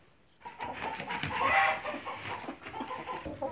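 An old hen in a backyard chicken coop clucks repeatedly up close, a run of short throaty calls rising to a louder burst midway and then continuing in a busy, uneven rhythm, with no talking over it.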